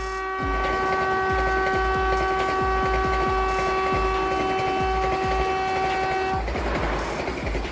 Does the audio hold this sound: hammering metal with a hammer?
no